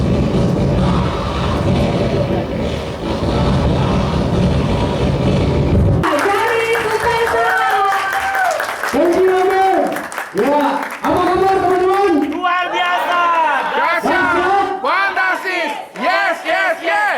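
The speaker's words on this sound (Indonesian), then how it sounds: "tepuk tangan buat Bapak" An audience at a talk in Malang applauds and cheers for a guest speaker in a dense, loud burst lasting about six seconds, which cuts off abruptly into voices.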